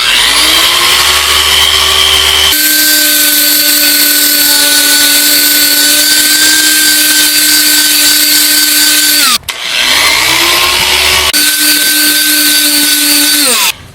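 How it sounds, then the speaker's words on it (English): A polishing buffer works over car paint to remove scratches, a loud sustained motor whine that drops slightly in pitch under load, stops briefly, then spins up and runs again. "take a buffer and directly polish right on a"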